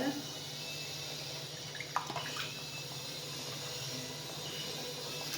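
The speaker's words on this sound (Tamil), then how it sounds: "கொஞ்சம் மிக்சி ஜாராக வாஷ் பண்ணி அந்த தண்ணியை இதில் ஊற்றிக்குவாங்க" Rinse water from a mixer jar pours into a pan of garlic thokku, a steady wash of running water with a brief splash near the middle, close and moderately loud, with faint kitchen background.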